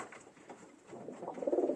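Pigeons coo softly in a loft of pale-coloured birds, a faint, low murmuring that swells near the end of the short stretch into a fuller, rolling coo.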